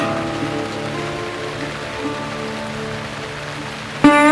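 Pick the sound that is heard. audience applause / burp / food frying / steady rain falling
steady rain falling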